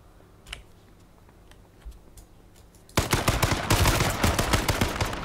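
An enemy's gunfire in the video game H1Z1: a couple of faint distant pops, then a loud, dense burst of rapid automatic shots from about the midpoint onward, with no talking.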